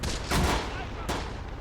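Two sharp shots ring out in the Close Combat video game, fired by an anti-tank gun at a Panzer III, each a punchy crack with a short tail, spaced under a second apart.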